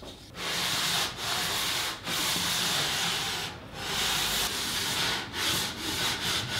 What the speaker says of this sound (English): With a piece of sandpaper glued to a flexible strip of wood, I'm going to go over this rail a little bit more